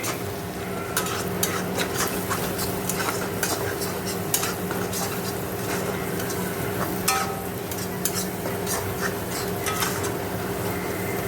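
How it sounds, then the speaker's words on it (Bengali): Spice paste of ginger, garlic, cumin, coriander and Kashmiri chilli powder sizzles steadily in a pan while a spoon scrapes and clicks against the metal, continuous close frying with repeated stirring taps. "আদা রসুন পেস্ট সব দিয়ে ভালো করে মশলাটা কষে নেব"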